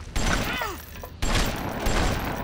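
BioShock gunshots burst out in two or three heavy blasts, fairly close, over a busy game background.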